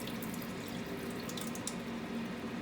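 Water from boiled potatoes and sweet potatoes pouring off into a sink in a steady, moderately quiet rushing stream with a few faint splashes and drips.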